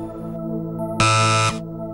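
A quiz show answer buzzer on a school news quiz gives one loud, harsh electronic blast lasting about half a second, sounding alone over a faint steady hum.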